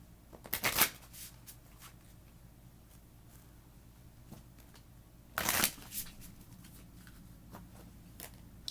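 Tarot cards being shuffled by hand, two loud riffling bursts near the start and middle with softer card handling and taps between, close and without talk.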